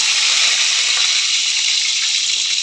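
Curry leaves hit hot oil for a prawn kuzhambu, producing a loud, even, hissing sizzle that holds steady and close the whole time, with no talking.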